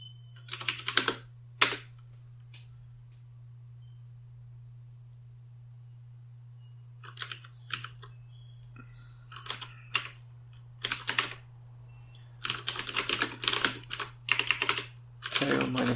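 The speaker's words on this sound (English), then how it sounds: "May even type init." Computer keyboard typing in bursts of quick, close clicks separated by pauses, ending with a longer, denser run of keystrokes over a steady low electrical hum.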